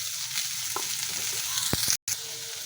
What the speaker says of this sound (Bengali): প্রথমে দিয়ে দিচ্ছি তেল, কয়েক দানা কালো জিরে, কপিটা দিয়ে দিচ্ছি